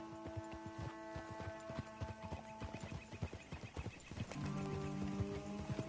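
A horse in Red Dead Redemption 2 clip-clops along in a steady run of close hoofbeats, with a soft whinny and some game music or ambience underneath.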